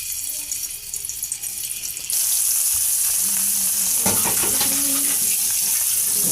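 Pieces of fish dropped into hot oil, setting off a loud, steady hiss and crackle of frying that jumps up suddenly and keeps going without a break.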